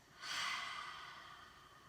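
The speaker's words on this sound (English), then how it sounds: "Exhale through the mouth. Inhale through the nose. And exhale through the mouth." A slow exhale through the mouth during a guided breathing exercise, one soft, airy breath that swells quickly and trails off gradually, close and quiet with no talking.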